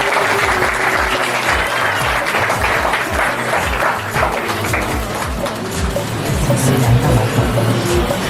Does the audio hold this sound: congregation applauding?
yes